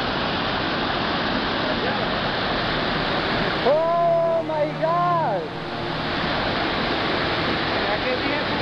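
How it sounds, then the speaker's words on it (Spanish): Steady broadband rush of the Salto de Apa waterfall in Chaparral, Tolima, roaring continuously throughout, with a person's excited exclamation briefly rising over the water noise midway. "Dicen que hay una sorpresa para mí, que hay una cascada"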